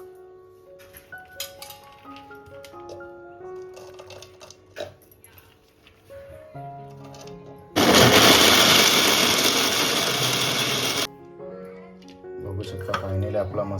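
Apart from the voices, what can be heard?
electric mixer grinding dried jackfruit seed slices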